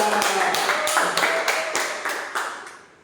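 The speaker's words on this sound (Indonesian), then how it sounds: "tepuk tangan untuk kedua kelompok" Classroom of students applauding for two groups, a quick run of sharp claps fading over about three seconds, fairly close and with no talk over it.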